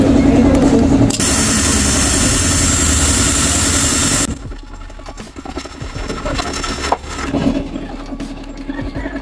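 Rusi Raider 150 FI motorcycle engine after a refresh rebuild: a loud, dense, steady engine roar for about four seconds, then cutting to a quieter, lumpy idle with small pops and mechanical clatter, no talk.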